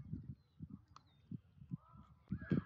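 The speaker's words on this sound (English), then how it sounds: "We can start to see the birds starting to go to nest." Birds heading to their nests during a total solar eclipse, with a few honking, goose-like calls at a moderate distance, scattered in short bursts, plus a faint thin whistle and rustling in the background.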